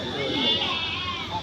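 Goats bleat amid a busy goat market crowd, with several animals calling over steady chatter and background commotion close by.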